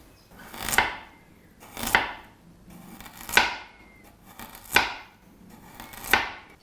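A knife set into a food preparation board chops food in five evenly spaced, sharp strikes against the board, each with a brief ringing tail, close and clear with no voices.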